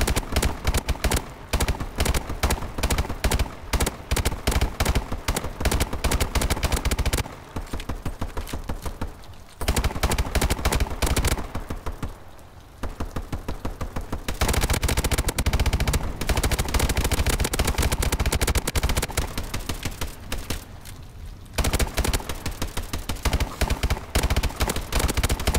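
Gunfire in a Call of Duty: Advanced Warfare Exo last-man-standing battle. Loud rapid shots rattle in dense automatic bursts for most of the stretch, broken by a few short lulls.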